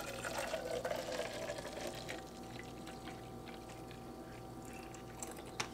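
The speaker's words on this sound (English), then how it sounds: "we're going to pour the coffee in this little cup right here" Coffee poured into a small cup at home, a steady liquid trickle for the first two seconds, then fading to quiet room noise with a faint clink near the end; no talking.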